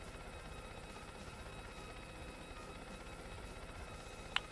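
A helicopter in the platform game Yooka-Laylee whirs with a steady, even rotor drone throughout, fairly quiet, with a short click near the end.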